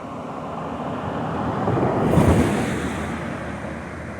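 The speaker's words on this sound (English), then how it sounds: "I love how this area has so many easily accessible waterfalls." Wells Falls, an easily reached waterfall, gives a steady broadband roar of rushing water that swells briefly at mid-clip before settling back, with no voices.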